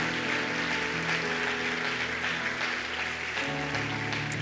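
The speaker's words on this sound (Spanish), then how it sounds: "Vamos a darle un aplauso a esta gente." Church congregation applauding at a Spanish-language service, a steady moderate clapping that runs throughout while a low musical hum sits underneath.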